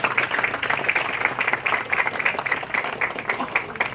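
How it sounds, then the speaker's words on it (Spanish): Crowd applause at an outdoor ceremony unveiling tourist letters, a steady dense patter of many hands clapping for several seconds with a few voices mixed in. "Y aplausos para ustedes y para Dios."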